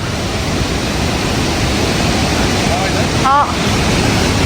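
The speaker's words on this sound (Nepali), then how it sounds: "झरना नजिक नजिक आयो झरना नजिक आयो" A waterfall near the Langtang river in the mountains roars as a steady, loud broadband rush that fills the whole clip, with a faint voice briefly heard over it.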